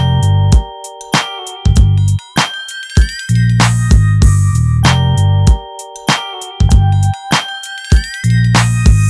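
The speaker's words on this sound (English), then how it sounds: "We also have this soft bell sound that plays in the background," A soft bell-like synth tone chimes in the background of a recreated GTA San Andreas theme, layered over steady hip-hop drums and bass in a loud, dense studio mix without speech.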